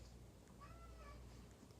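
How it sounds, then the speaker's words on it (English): A cat gives a single short, quiet meow partway through, set against a low steady room hum with no talking. "And there's now the other cat."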